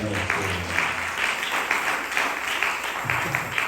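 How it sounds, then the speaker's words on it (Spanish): A church congregation claps during a sermon at an evangelical service, a moderate steady patter of many hands with faint voices mixed underneath. "le doy el aplauso al Señor ahora"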